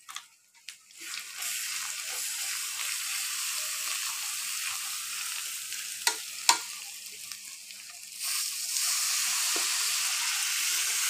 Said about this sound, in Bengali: এদিকে মশলাটা কষানো হতে থাক